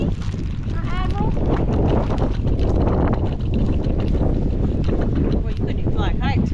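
Strong wind buffets the microphone outdoors on a hot day during a chicken fence move, a loud, continuous rumble that never lets up, with voices talking over it and chickens or birds chirping faintly at times.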